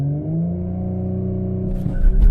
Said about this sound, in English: do the 0 to 60 launch and see what numbers this thing can pull